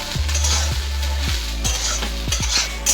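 Roasted corn with oil, salt and spices being stirred in a pan, with repeated scraping strokes of a spoon roughly every half second over a steady close sizzle, no talking.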